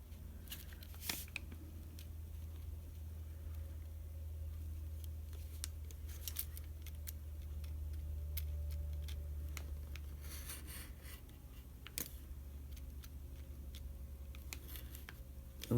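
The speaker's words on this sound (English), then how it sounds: "use our knife to cut across between the 2 lines" A craft knife drawn across craft material between two marked lines while making a faux clover tassel maker: quiet, close rasping and scraping strokes with a few soft clicks over a low, steady background hum.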